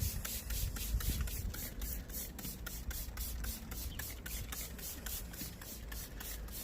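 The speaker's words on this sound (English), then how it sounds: "All I do then is give them a spray." A hand sprayer pumps in quick regular bursts onto delphinium plants, each a short hissy spritz, repeating steadily and close up with no speech.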